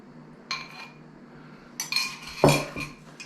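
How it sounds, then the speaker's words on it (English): A utensil clinks against a bowl while apple crisp topping is mixed with five tablespoons of melted butter, a few sharp separate clinks and scrapes close by with quiet gaps between them. "And we're going to get this all mixed up."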